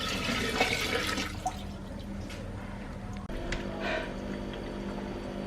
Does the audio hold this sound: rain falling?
no